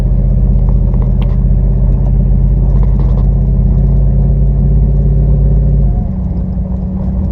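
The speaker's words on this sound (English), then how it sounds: "When this thing is in low range like this and it shifts gears, it gives you like a boost" Vehicle crawling in low range up a very steep mountain road, steady loud engine rumble and drone throughout, with a sudden drop in pitch near the end as it shifts gears.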